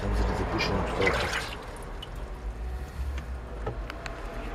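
Water pours and trickles into a car at an auto service garage in Sofia, giving a continuous rushing, gurgling flow that is strongest at first, then settles lower over a background of workshop noise.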